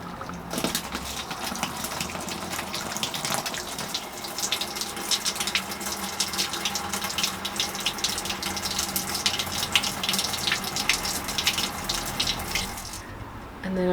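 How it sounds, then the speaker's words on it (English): Water pours steadily onto a freshly repotted Japanese larch cascade bonsai, a continuous close splashing and trickling that runs for most of the stretch before cutting off near the end. "so we'll give it a quick water."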